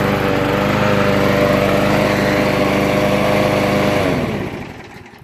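Briggs and Stratton small engine running loud and close with a steady buzzing drone, then cutting off and winding down over the last second.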